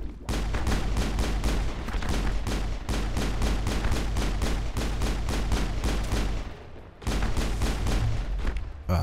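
Rapid gunfire in Mass Effect hammers out in long, evenly spaced bursts of sharp shots, loud and close, pausing briefly twice before resuming, with no talk.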